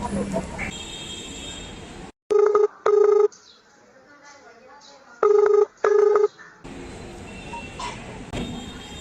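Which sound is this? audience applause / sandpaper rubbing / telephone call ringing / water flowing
telephone call ringing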